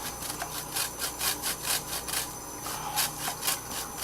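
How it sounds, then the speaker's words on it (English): Something, likely an ingredient for a dry rub for pork loin, is rubbed over a cheese grater in quick, even rasping strokes, about two per second, close and steady with no talk. "This is a cheese grater. This I'm gonna add to this mixture I have here, of the dry rub."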